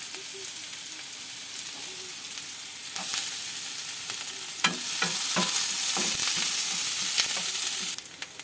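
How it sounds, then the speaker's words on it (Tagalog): Garlic and onion sizzle in a hot pan, a steady close frying hiss that grows louder midway as the pieces are stirred, with scraping clicks from the utensil and no talk. "Ayan, nagisa na natin po ang bawang."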